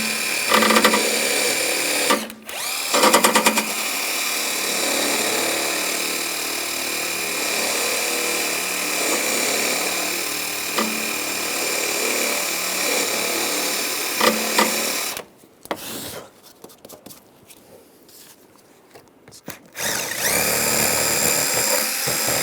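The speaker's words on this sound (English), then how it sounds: "And just clean this off with a wire brush." Wire brush scrubbing around the headlight bolt area of a 1999-2006 Chevrolet Silverado 1500, a sustained rasping buzz that runs for a long stretch, breaks briefly twice, then returns after a quieter gap.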